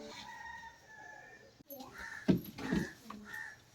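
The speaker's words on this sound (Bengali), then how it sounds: "দেখি মুরগিগুলো আমি খুলে দেই" Chickens cluck and a rooster crows as they are let out of a coop in a village yard; a louder burst of fowl calls rises midway, close by, with a voice talking underneath.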